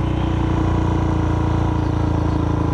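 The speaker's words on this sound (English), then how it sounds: "this bike's still idling pretty high" A motorcycle engine idles high and steady, a continuous rumbling drone with fast regular pulsing, close and fairly loud with no talk.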